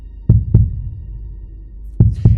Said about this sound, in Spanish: el latir infernal del corazón era cada vez más fuerte y más precipitado